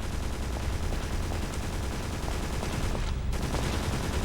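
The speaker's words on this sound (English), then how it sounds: "I hear gunfire. That thing is shooting." Dense, continuous rattle of rapid gunfire in a PlayStation game demo, a steady barrage of shots in a noisy game scene with no pauses.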